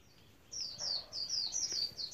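Wild forest bird, just freed from a mist net, gives a quick series of high, thin chirping calls at close range, repeating rhythmically after a short quiet start.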